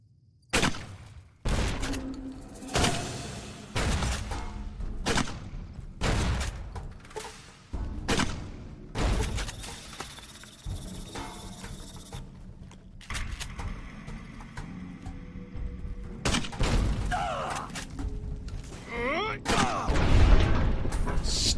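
Grenade and gunfire explosions in the game Fallout: New Vegas, a series of sharp, loud blasts and thuds scattered irregularly over about twenty seconds, some sounding close and heavy.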